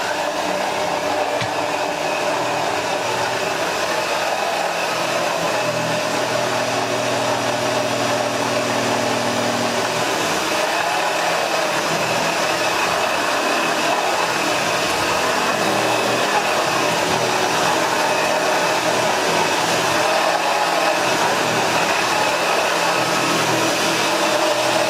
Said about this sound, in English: Let's just get some more general vacuuming shots.